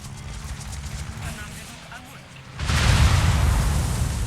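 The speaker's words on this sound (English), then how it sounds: "So I decide to attack the Fuso with my rockets." A rocket barrage from carrier planes in World of Warships strikes a Fuso battleship, bursting into a loud, dense roar of explosions midway after quieter rumbling, with a voice talking over the earlier part.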